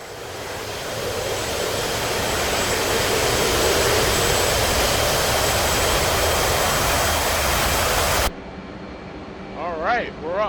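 Loud, steady roar of an F/A-18C Hornet's jet engines taking off in the DCS World flight game, a broad rushing blast lasting most of the time before it cuts abruptly to a quieter cockpit hum with a few brief tonal chirps.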